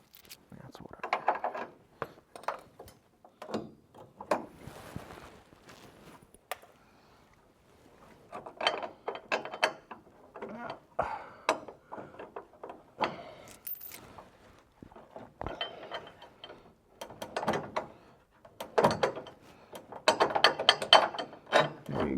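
A ratchet tightens nuts on a Motion Raceworks parachute mount for a 1982-1992 F-Body car, making bursts of quick mechanical clicking separated by short pauses, close by in a quiet garage.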